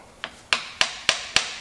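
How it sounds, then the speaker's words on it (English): Five sharp hammer taps during a John Deere hydraulic cylinder rebuild, metallic and close, evenly spaced at a steady rhythm, the first one lighter than the rest. "There's a hammer. You're gonna tap about"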